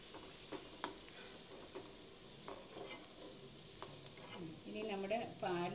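Kurishappam, an Indri Appam for Pesaha, frying in hot oil with a soft steady sizzle and occasional stirring clicks, growing louder and bubblier toward the end.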